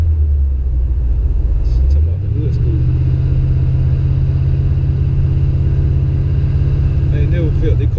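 A Chevy box Chevrolet with a hood scoop rumbles loudly and close while being driven, its deep engine note climbing to a heavier, steady growl about two seconds in. A person talks over the engine.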